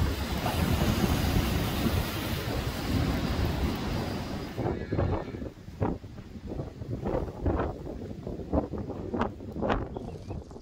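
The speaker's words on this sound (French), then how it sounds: "tout d'un coup, le vent est arrivé" Strong wind roars against the microphone in a heavy buffeting rush during a hailstorm over farm crops, then eases into separate gusts that swell and fade every second or so.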